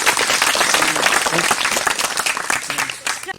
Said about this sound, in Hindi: तो इसके लिए भी एक तालियां होनी चाहिए आप लोगों की तरफ